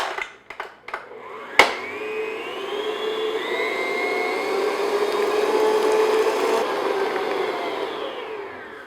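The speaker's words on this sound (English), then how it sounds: "this stand mixer, that could take 4 or 5 minutes on medium-high speed." A stand mixer beats sponge cake batter at medium-high speed, starting with a few knocks and a sharp clack, then a steady whirring motor hum with a rising whine that holds at moderate volume.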